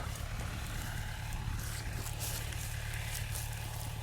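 A tractor-mounted DTZ FN 1.60 mulcher works virgin ground with a steady low droning hum and broad rushing noise, constant and moderately loud throughout with no talk.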